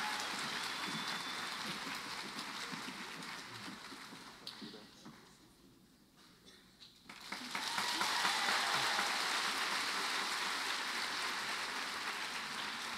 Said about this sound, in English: let's give a warm round of applause as we welcome back to the stage the Burke Singers